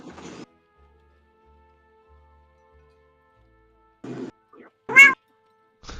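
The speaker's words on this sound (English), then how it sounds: "Is that a cat I just heard?" A cat meows several times close by: one cry at the start, then a short pair near the end and a louder, sharper final meow, with silence between.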